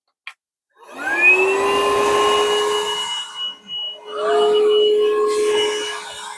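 A vacuum cleaner inside a caravan whirs up with a rising tonal whine, runs steadily, dips briefly as the nozzle shifts, then roars on again, loud and close with no talking.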